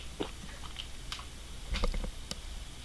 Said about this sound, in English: My dog is chewing on me right now.